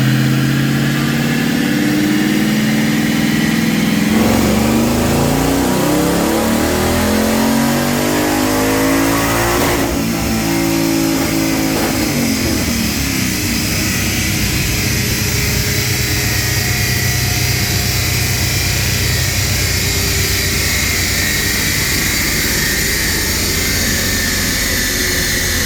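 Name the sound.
2016 Roush Warrior 660HP car running on dyno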